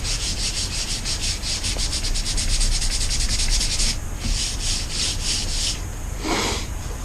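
Close, steady back-and-forth sanding strokes on a hardened epoxy resin coating, a rhythmic dry scrubbing that slows slightly toward the end.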